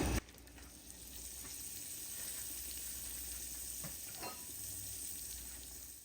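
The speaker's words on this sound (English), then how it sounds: "So to a skillet, we're going to add some butter." Butter melts in a skillet with a soft, steady sizzle and faint crackle, heard quietly and close with no talking.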